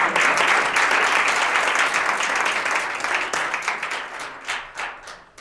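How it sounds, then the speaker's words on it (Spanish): An audience at a poetry reading gives warm, sustained applause, a dense wash of many hands clapping that stays steady and then gradually thins out and fades toward the end. "Un aplauso para ellos."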